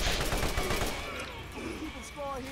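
A quick burst of rapid gunfire rattles at the start in Borderlands, then fades into softer game ambience and electronic tones over the short span.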